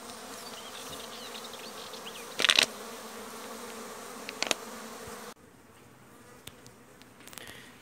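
Steady honeybee buzzing fills the clip, with a few louder close passes standing out briefly before the hum drops to a quieter level.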